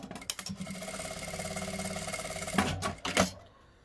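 A sewing machine stitching a seam to close a small fabric bag, a fast continuous mechanical whirr with rhythmic needle ticking, then a few louder bursts near the end before stopping, close up.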